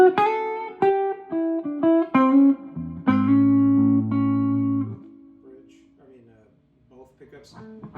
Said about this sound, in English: But here is the neck pickup clean.